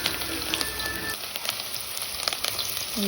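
Onion, garlic paste and tomato sizzle in hot oil as the base of a chicken curry, a close, steady frying hiss sprinkled with small pops and spatters.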